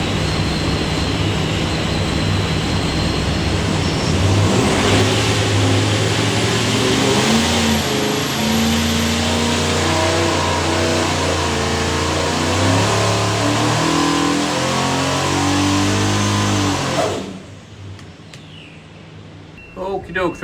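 A Vortech supercharged 363ci small block Ford engine with AFR cylinder heads and a hydraulic roller cam roars on a dyno, revving steadily upward for about seventeen seconds before cutting off sharply, loud and close.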